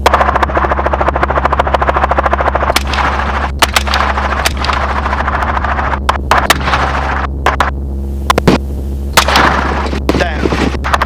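During a hog hunt from a helicopter, gunshots crack out again and again, some in quick bursts and some alone, over the loud, steady thump and drone of the rotor and engine.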